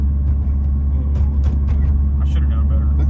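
A Mitsubishi Evo or Subaru STI engine runs steadily from inside the cabin, a loud constant low drone and rumble filling the whole moment with faint clicks and shifts above it.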